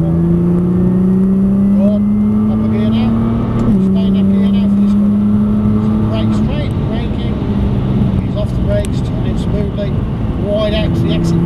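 A Nissan GT-R accelerates on the Prestwold Hall track, its loud close engine note climbing steadily through the gears, with a driving instructor's voice talking over it.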